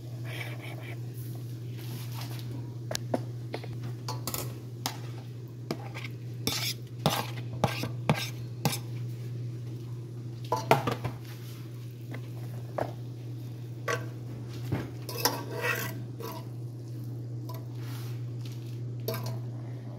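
Shrimp and steak with steak juices get stirred in a pan, with a metal utensil clinking and scraping in irregular bursts over a steady low hum.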